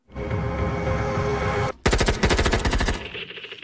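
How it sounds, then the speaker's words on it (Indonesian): In a Death Note film scene, a sustained tonal hum cuts off abruptly and a loud, rapid burst of automatic gunfire follows, dozens of quick shots in steady rhythm before fading into a ringing tail. "Watari pun mati ditembak oleh agen yang melindungi nama Elle."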